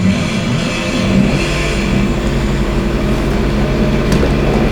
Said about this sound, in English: But let's throw on the ignition.